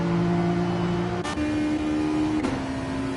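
A race car engine in Gran Turismo 7 holds a steady, droning note at speed, with two brief gear-shift breaks where the tone drops, and no voices.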